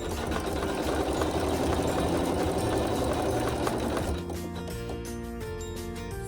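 A Bernina Navigator sewing machine stitches fabric blocks with a steady, close mechanical whir, then the running tone shifts partway through and continues at a slightly lower, smoother level.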